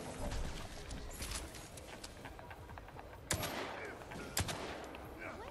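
Two sharp gunshots crack out at about 3.3 and 4.4 seconds in a prison-map video game, fired at a security camera, standing out over a steady noisy background.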